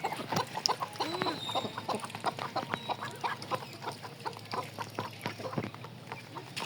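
Ducks and chickens eat rice in a rural yard, with quacks and clucks scattered over a busy, continuous bed of pecking and shuffling, moderately close and without talk.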